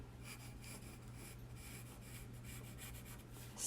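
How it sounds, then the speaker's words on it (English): Pencil lines being drawn on paper while doodling an owl, a soft continuous scratching and rubbing of graphite close by and faint, under a steady low hum, with no one talking. "with your pencil, you can thicken the lines or darken them"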